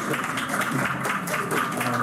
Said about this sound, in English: Stop fucking clapping.